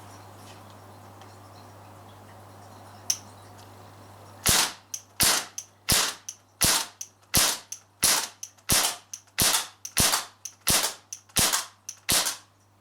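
Crosman 1077 air rifle firing a full magazine in quick succession: about a dozen sharp, loud cracks at a steady, fast rhythm after a quiet start with a faint background hum.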